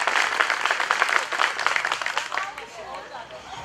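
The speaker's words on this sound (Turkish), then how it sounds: "sizlerden kuvvetli bir alkış daha istiyorum." An audience at the opening speeches of a traditional halva day event in Eğirdir bursts into strong applause, many hands clapping loudly before the sound thins out, with crowd murmur and a voice underneath.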